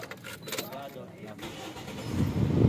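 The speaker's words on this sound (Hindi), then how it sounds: "ये मैंने अभी सेल्फ लगा दिया इसको।" A car's engine is cranked by the starter and catches, a short grinding start that swells into a louder idle toward the end, with someone speaking over it.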